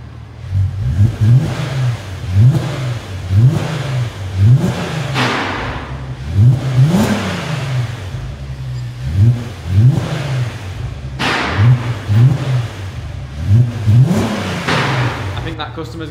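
Volkswagen Passat 3.2 engine fitted with a custom exhaust, revved repeatedly in loud rhythmic bursts that rise and fall about every second and a half, with a steady idle rumble beneath and a voice speaking over it.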